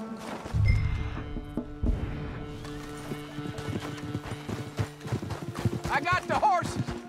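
Rhythmic clip-clop of horse hooves with a horse whinnying in Red Dead Redemption 2, loud and close, over a busy layer of other game sounds and brief voices.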